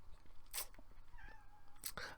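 Cat meowing indoors, two short faint mews separated by a pause, quiet and close with no talk.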